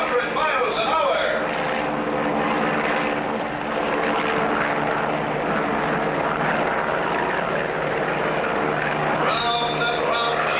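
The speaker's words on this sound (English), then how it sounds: "that plane is traveling at 100 miles an hour" A propeller airplane drones steadily in a 1959 Clutch Cargo cartoon, flying at about 100 miles an hour during an aerial stunt act. The engine hum stays loud and constant throughout, with a narrator talking over it.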